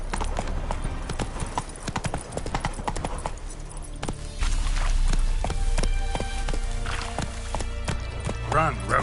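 Galloping hooves of Roach, the horse in The Witcher 3: Wild Hunt, a fast loud rhythmic clatter that grows heavier after a few seconds, with a voice and game ambience around it.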